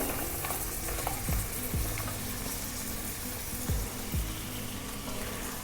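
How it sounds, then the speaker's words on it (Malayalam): Onion frying in a pan as it is stirred, a steady close sizzle with several scraping spatula strokes spaced through it. "ആദ്യം തന്നെ ഉള്ളി ഇട്ട് കൊടുക്കാം"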